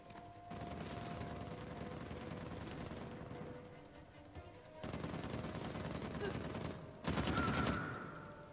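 Shotgun blasts and other gunfire during a firefight in the game Uncharted: The Lost Legacy, loud bursts running in long dense stretches with short gaps, ending on a sharp louder volley.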